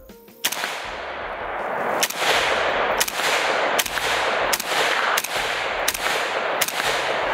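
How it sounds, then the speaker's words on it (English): A VZ58 fires nine loud, sharp shots at a steady, unhurried pace, each crack followed by a short echoing tail outdoors, with no voices. "let's go ahead and just run a couple rounds through this guy so you guys can see what this is all about"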